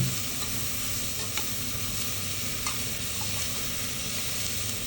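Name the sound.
chopped szalonna frying in a pot, fat rendering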